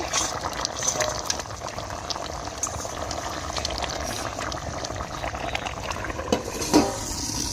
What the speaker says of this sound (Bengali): এবার মাছ দিয়ে একটু ফুটিয়ে নেব।